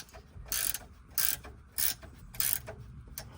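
A ratchet turning against a wrench on a sway bar link stud of a third-generation Dodge Ram 2500, giving four or five short, crisp clicking bursts in an even rhythm, close and fairly quiet.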